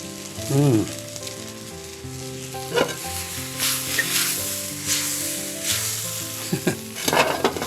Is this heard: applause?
no